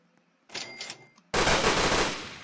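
Gunfire from a newly acquired gun in a video game: a short scattered burst, then a sustained loud, dense volley of rapid shots that runs to the end.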